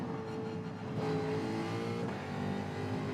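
A Jaguar race car in a racing game, its engine revving hard and held high in a steady, loud, continuous whine with no talk over it.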